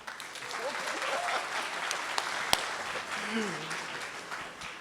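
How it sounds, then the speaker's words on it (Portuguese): Audience applause at a tech conference on SAP AI architecture, welcoming a presenter to the stage; steady, dense clapping from a crowd throughout, with a few brief vocal whoops rising above it. "Vamos receber com palmas Cabreira"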